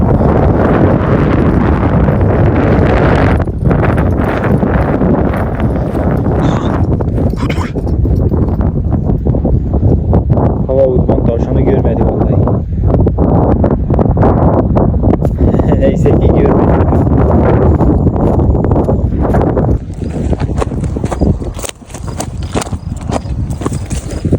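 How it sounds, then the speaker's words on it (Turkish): Strong, steady wind roars into the microphone in loud, buffeting gusts that continue throughout, easing slightly near the end. "O iyice rüzgar hızını arttırdı."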